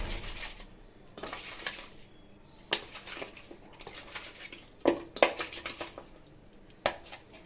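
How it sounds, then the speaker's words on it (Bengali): Raw rohu fish pieces being worked by hand with salt, turmeric, chili powder and mustard oil in a metal bowl, giving bursts of wet rustling and scraping with a few sharp clinks against the rim, no voices. "এবার লবণ হলুদ লঙ্কার গুঁড়া সরিষার তেল দিয়ে আমি একটু ভালোভাবে মাছটাকে মাখিয়ে নেব।"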